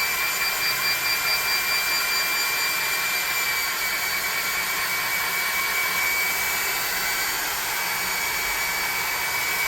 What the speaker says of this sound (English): I'm going to hit this real quick with a hairdryer.